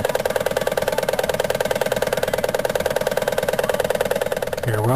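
Small steam engine driven by a boiler, warming up with a steady rapid chuffing beat and a constant hum, close and fairly loud, running alone without talk.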